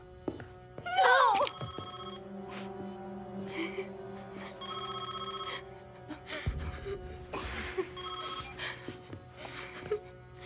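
A telephone bell rings loudly in a tense indoor scene, a short burst of ringing followed by clatter, shuffling and a quick gasp as someone moves to answer.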